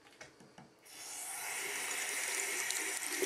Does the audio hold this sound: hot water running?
yes